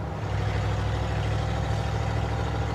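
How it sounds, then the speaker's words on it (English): A 1956 Ford truck engine rumbles steadily at idle, a loud, constant low drone with a motorhome-like exhaust note heard up close and without a break. "It's got a good motorhome rumble to it over here on my side."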